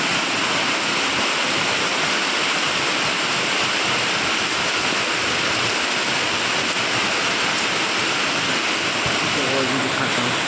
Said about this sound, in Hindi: देखो इतना ज़ोर से बारिश हो रहा है, तेज़ बारिश हो रहा है अभी बहुत ज़्यादा